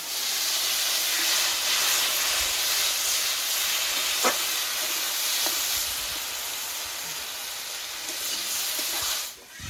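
Water splashed into hot fried spice masala in a pan while cooking a chicken curry, giving a loud, steady hiss that fills the whole stretch and cuts off abruptly at the end.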